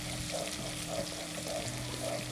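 Onions and cumin sizzle steadily in a hot pan as they are stirred and fried, a dense continuous crackle with soft, regular scraping strokes roughly every half second, close and fairly loud.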